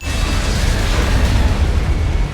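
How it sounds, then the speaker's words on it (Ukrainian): Explosion in the video game Metal Gear Rising, a loud sustained rumbling blast with heavy low-end roar filling the whole moment without pause. "Круті хлопці не дивляться на вибухи кліше."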